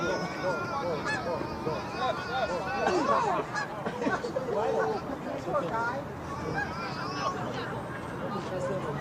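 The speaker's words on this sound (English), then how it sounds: "Goose flying overhead." Geese honk repeatedly while flying over an amateur soccer match, a busy string of nasal calls through the middle of the stretch, mixed with crowd chatter and voices.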